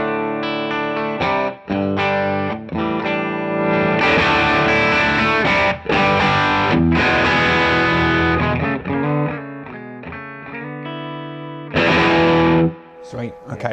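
Electric guitar through a Wampler Pantheon overdrive pedal with the guitar's volume knob rolled back, playing chords and riffs in a cleaner, lightly broken-up tone, loud and close with brief pauses between phrases.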